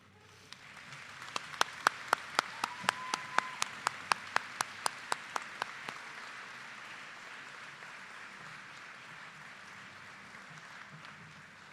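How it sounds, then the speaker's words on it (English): A large audience at a college commencement ceremony breaks into sustained applause for an award recipient, with a few sharp, louder claps near the start standing out before the sound settles into an even, steady wash that continues to the end. "Let's get one more big round of applause for Rhonda."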